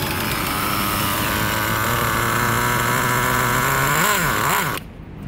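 A nitro-fuelled RC car engine (Traxxas T-Maxx 3.3 class) idles steadily during break-in, a loud continuous buzzing drone with rising and falling harmonics near the end before it sputters and cuts out abruptly.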